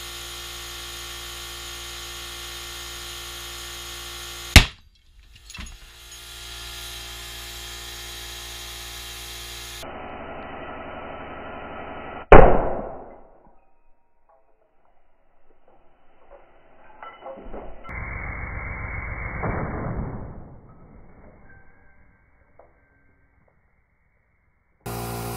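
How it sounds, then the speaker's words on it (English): Primer tube plugged in at full power and heated until it bursts, with sharp loud cracks and a brief bang amid a steady electrical hum, then a rising hiss that cuts off into near silence. "it's just going to heat it up and go boom."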